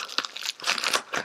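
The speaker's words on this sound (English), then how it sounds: "Let's see if I can just take the tape off." Tape is peeled off a mailed envelope in a few short crinkling, tearing rips, close and fairly loud, with no talking.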